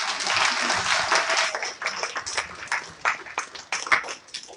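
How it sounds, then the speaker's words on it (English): An audience at the Selma Jubilee 2020 public conversation applauds a speaker being welcomed, with dense clapping that thins out unevenly over a few seconds. "Give him a round of applause."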